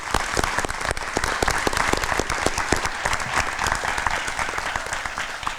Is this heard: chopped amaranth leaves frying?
no